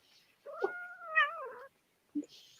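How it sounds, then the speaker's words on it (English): A small, full-grown cat gives one drawn-out, wavering meow up close, followed by a couple of brief soft sounds and a faint hiss. "This is the cat."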